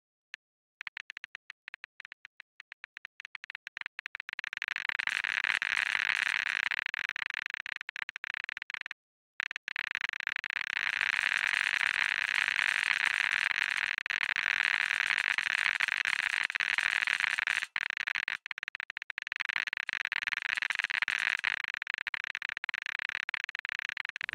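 An Unreal Engine 4 Geiger counter sound asset starts with sparse, sharp clicks that speed up into a dense, continuous crackle, held at a steady level with one brief dropout.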